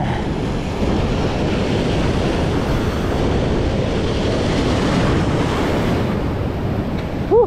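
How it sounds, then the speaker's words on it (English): Wake from a passing ship washing ashore at a bayside park in Port Aransas, Texas: a steady, loud wash of surf and water with wind rumble across the mic, and a brief splash near the end. "The wake from that ship. It looks like waves in the ocean."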